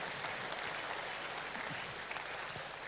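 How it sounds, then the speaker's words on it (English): Church congregation at a Fijian service applauding a group that performed, a dense, even wash of clapping from a large room that holds steady throughout, with no talking over it. "Why don't we give the group that took part today another big round of applause?"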